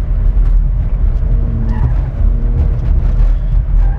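A car slides and spins round under power, its engine droning and revving loudly and close throughout, with rising pitch sweeps and rough tyre scrub during the four-second spin.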